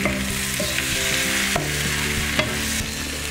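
Potato and carrot pieces with onions being stirred in a hot pan, with a steady sizzle and scraping spoon strokes at a few points, close and fairly loud, no voices.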